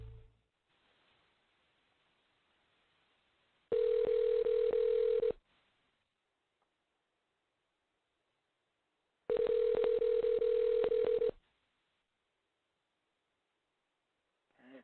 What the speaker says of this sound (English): And it's dialing.